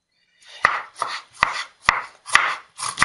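Ginger is chopped with a knife on a cutting board: six crisp, evenly spaced knife strikes about half a second apart, close and clear, with no talking.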